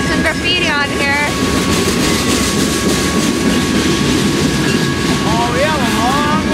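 A long train hauled by an engine rolls slowly past on the tracks, a loud continuous rumble and clatter close by, with faint squealing wheel tones early and late.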